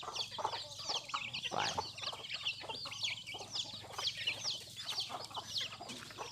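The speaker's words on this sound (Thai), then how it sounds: "ไก่ก็กินครับนี่" A flock of free-range chickens clucking busily while feeding, with dense overlapping chirps and clucks close by and no talking.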